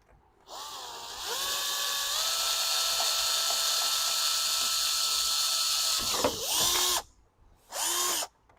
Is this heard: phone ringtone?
no